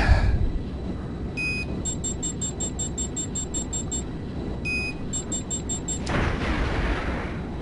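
Missile fire in ARMA 2 desert air combat: two runs of rapid, evenly spaced electronic warning beeps are followed by a sudden loud rushing whoosh. A steady jet engine roar runs under it all.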